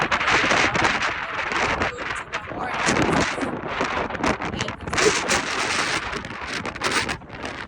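Strong haboob dust-storm wind roars across open country in New Mexico, a loud, steady buffeting rush with gusty surges that runs the whole time without letting up.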